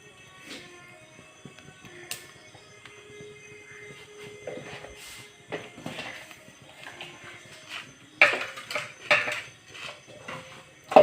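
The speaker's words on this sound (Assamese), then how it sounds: "এতিয়া মই ইয়াত বাঁহগাজখিনি দি দিম।" Bamboo shoots going into a pot with fish on a gas stove, with clattering of metal pot and utensils, scattered knocks and scrapes that grow louder and busier toward the end, close by.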